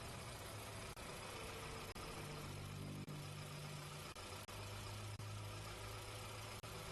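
A 2009 VW Gol G5 with a 1.0 76 cv engine runs warm at a steady idle, a continuous low hum broken by a few faint periodic ticks, with no voices.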